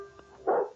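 A single short dog bark in a television cereal commercial, one quick yap at moderate distance over a faint background hum.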